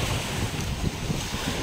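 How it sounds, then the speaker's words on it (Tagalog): Strong waves wash continuously against the shore of Taal Lake along a baywalk, a steady broadband surge with wind buffeting the microphone throughout, no voices. "Ay, lakas ng alon."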